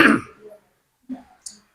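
A listener at an Islamic fiqh study session coughs and clears the throat, one loud harsh burst at the start followed by two short quieter throat sounds after a pause, with no talking over them.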